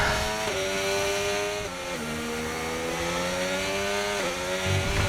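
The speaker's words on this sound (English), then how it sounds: "Just slamming the car into the wall there." Race car engine in the F1 25 video game, a loud continuous whine with pitch drops as the worn-tyre, unstable car slams into a wall, steady game audio with no talk.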